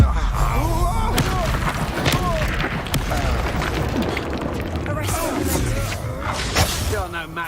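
Fire spell explosions boom repeatedly in Hogwarts Legacy combat, with several thuds and bursts. Excited speech runs over the top of them throughout.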